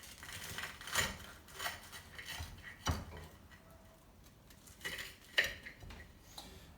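A knife slices open a poached egg on a toasted cheese and tomato sandwich, making faint, sparse clicks and scrapes against a plate, with a few soft taps spread across the moment.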